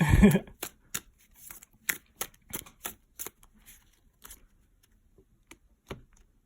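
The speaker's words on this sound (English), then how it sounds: "Let's continue with shuffling." Tarot cards being shuffled in quick, crisp riffles: a dense burst up front, then a run of separate flicks and taps that thin out and fade.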